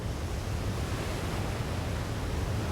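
Huge waves break on Maui's north shore at the Peahi surf spot known as Jaws, heard as a continuous, distant, rumbling roar of surf with wind, no voices.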